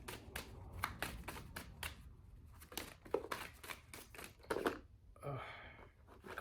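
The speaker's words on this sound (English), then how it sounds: "Cards are just falling all over the place." Tarot cards being shuffled by hand in quick riffling bursts, with a few cards slapping down as they fall, close and quiet with no speech.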